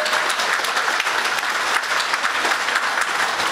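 Steady, full applause from an audience at a public talk on the Caribbean Court of Justice versus the Privy Council, honouring Mr. Warner; many hands clap densely and evenly for several seconds, close and unbroken, with no speech on top.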